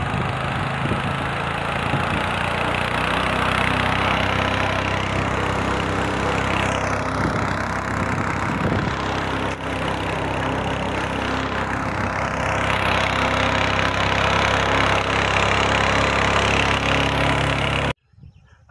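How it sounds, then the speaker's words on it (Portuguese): Small but powerful outboard motor on a rented fishing boat, droning steadily and loudly up close for about eighteen seconds, then cutting off abruptly near the end. "O motorzinho é muito forte."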